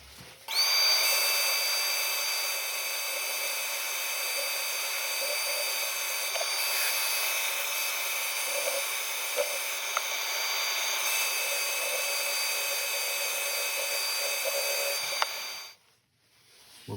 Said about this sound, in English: So I'm going to get ready for sanding.